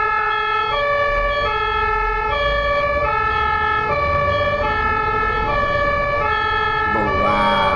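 A German ambulance siren wails in a loud, steady two-tone pattern amid road traffic, repeating evenly for several cycles with a vehicle rumble underneath and a brief noisy burst at the end.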